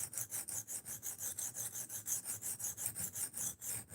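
A knife being sharpened on a very low grit stone gives a steady rasping scrape, repeated in even back-and-forth strokes about five times a second, close and alone.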